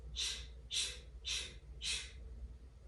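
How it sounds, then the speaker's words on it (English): Four forceful breath-of-fire exhales are pushed out through the mouth in an even rhythm, sharp and breathy, close and fairly quiet. "This is a quick breath and often referred to as the breath of fire"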